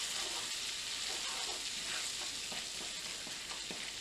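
Butter sizzles steadily in a hot pan for Turkish rice pilaf, a dense continuous crackling hiss with faint scattered pops, close and with no one talking.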